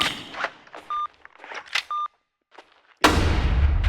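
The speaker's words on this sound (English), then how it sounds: "I'm just gonna throw a flashbang." A flashbang grenade in a first-person video game, with short beeps and clicks at first, then a sudden loud burst that settles into a sustained ringing wash for the last second.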